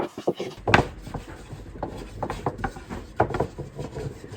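A custom wooden rolling pin rolls out dumpling dough for fried pork dumplings, giving soft irregular rubbing and knocking sounds of wood on dough and board, close and fairly loud with short pauses.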